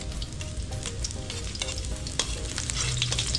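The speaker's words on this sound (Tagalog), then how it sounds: "ihulog na po natin yung bawang" Garlic fries in hot oil in a pan, a continuous crackling sizzle with steady popping and occasional stirring scrapes, close and without talk.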